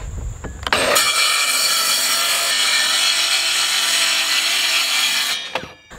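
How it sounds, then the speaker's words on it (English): A power saw cuts a thin sliver off the end of a sheet of plywood during a trailer floor renovation. It gives a loud, continuous whine of about five seconds, with a spin-up at the start and a short wind-down at the end. "I'm literally cutting off a little sliver at the end here and cutting off a little sliver at the end here about that much."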